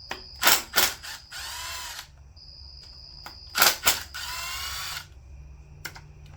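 Hand and power tools work on the drive cover of an abandoned Suzuki GSX750 motorcycle: sharp bursts of drilling or impact-driver whirring in two clusters, with ratchet-like clicks and brief mechanical whines between, close and fairly loud.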